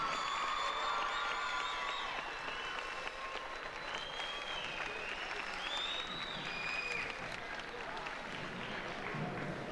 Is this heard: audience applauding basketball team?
yes